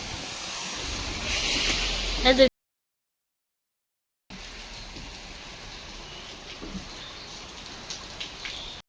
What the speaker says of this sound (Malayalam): നല്ല തകർപ്പനായിട്ട് മഴയാണ്, ഒരു രക്ഷയില്ല